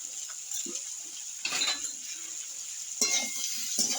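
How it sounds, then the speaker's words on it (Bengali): Winter vegetables with turmeric and salt sauté in a pan, giving a steady high sizzle with a few spatula clinks and scrapes, loudest around the middle and near the end. "হলুদ আর লবণ দিয়ে আমি 2 মিনিট একটু কষিয়ে নেব সবজিগুলো"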